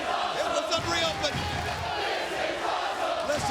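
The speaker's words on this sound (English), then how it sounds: "They're chanting, this is awesome, because this Monsters Ball has been off the charts" A large arena crowd at a Bound for Glory wrestling event chants in unison, a dense rhythmic roar with a commentator talking over it.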